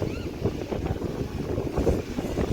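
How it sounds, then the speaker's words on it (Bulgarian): Wind buffets the microphone at a Red Sea beach resort in Sharm El Sheikh, Egypt, a steady low rumble with gusty swells running through the whole stretch, no voices. "Има малко вятър днеска."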